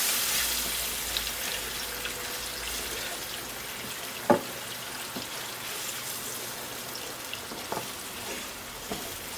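Ginger and fennel powder spices cook in hot mustard oil with a steady, quiet sizzle and faint crackle throughout, plus one brief clink partway through.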